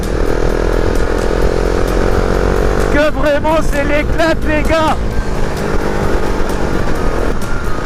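Husqvarna Vitpilen 701 motorcycle engine droning steadily while riding, a constant loud hum throughout with wind noise, as someone talks excitedly over it for a couple of seconds midway.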